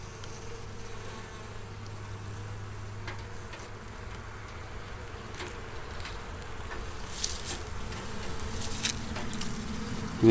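Honey bees buzz continuously inside an opened hive during a winter hive removal, a close, dense drone that grows slightly louder toward the end, with a few soft knocks.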